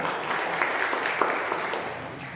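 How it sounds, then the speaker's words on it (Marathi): A crowd claps steadily for a few seconds at a workers' training camp, a dense, even patter of many hands with no talk over it. "त्या 5 लोकांसाठी जोरदार टाळ्या"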